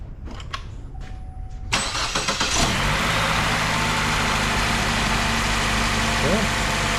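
A 2011–2014 Chevrolet Cruze 1.4 turbo engine cranks briefly and catches, then settles into a steady, close idle; people speak briefly before it starts.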